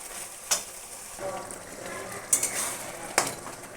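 Tomato puree sizzles steadily in a hot pan while being sautéed for chicken curry, with a few sharp clinks and scrapes of a spoon stirring against the pan.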